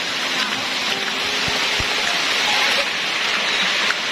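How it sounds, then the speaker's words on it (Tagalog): Steady rain falling outdoors at a fish-selling spot, a continuous broadband hiss that holds even throughout, with a couple of low thumps and faint background voices underneath. "Kasi yung ulan matagal po ito mawala."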